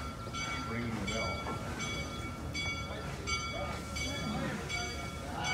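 A train at Kings Island amusement park rumbles slowly in reverse into its car barn with rhythmic clanking and a repeatedly ringing bell, while people talk nearby.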